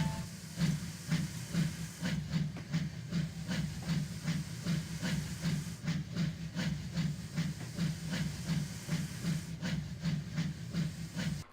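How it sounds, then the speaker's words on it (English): A steam locomotive chuffs steadily in a rapid, even rhythm, each puff a hissing burst over a low mechanical rumble, continuous and fairly close. "and with that, Alfred puffed away"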